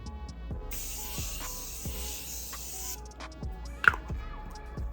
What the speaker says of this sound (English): I'm going to spray her all over my face to set everything in place.